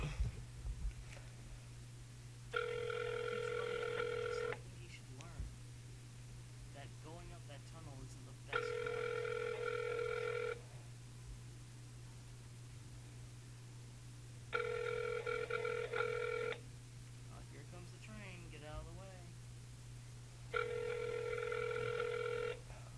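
Phone line ringback tone during an unanswered call to a store, four evenly spaced two-second rings with pauses between them, over a steady low hum and faint background murmur.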